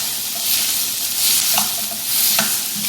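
Potato and onions cook in a pot, giving a soft, steady sizzle with a few light stirring scrapes and taps, close and moderately loud, with no voices.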